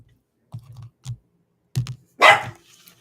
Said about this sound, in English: My dog is excited for the reading, I guess.